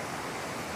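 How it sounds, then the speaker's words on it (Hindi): A small waterfall on the road from Siliguri to Kurseong, heard as a steady, close, broadband rush of falling water with no voices over it. "ओ छोटी सी झरना"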